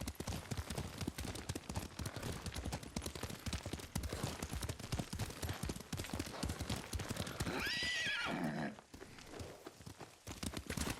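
Steady hoofbeats of a horse clip-clopping along with background noise in the video game Ghost of Tsushima, then a loud horse whinny rising and falling near the end.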